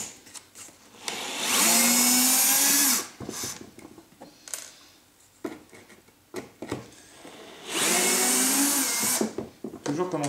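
A cordless power drill drives screws into the plastic housing of a Kärcher vacuum cleaner under repair, two loud whirring bursts with a rising pitch, separated by clicks and handling noises nearby.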